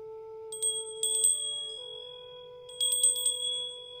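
A small bell rings in quick clusters of bright, sustained strikes, two bursts separated by a pause, over a steady low tone with no talking.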